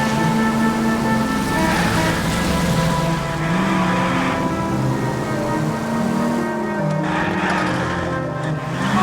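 Steady rain falling in the video game L.A. Noire, a continuous wash of drops mixed with a car's engine hum and sustained musical tones, evenly loud throughout.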